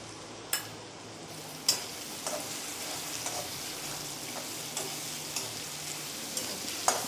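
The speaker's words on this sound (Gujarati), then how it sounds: "બટાકાને તેલમાં જ ચડવી દેવાના છે, કેમ કે આપણે પતલા સમાર્યા છે એટલે તેલમાં જ ચડી જશે।" Thinly sliced potatoes frying in oil for sabudana khichdi, a steady close hiss of sizzling broken by occasional sharp scrapes and ticks of stirring, alone without talk.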